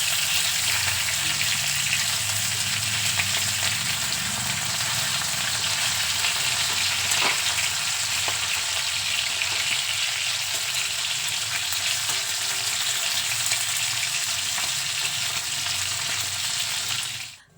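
Bata fish fillets frying in oil in a pan, a steady, loud sizzle that holds without a break, with a few faint clinks and stirring touches and no talking.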